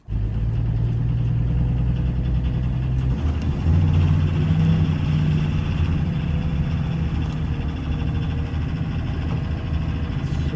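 A boxy Vixen vehicle with a bus-like engine runs steadily, a low droning rumble with a brief shift in pitch as it pulls along, close and continuous with no talk.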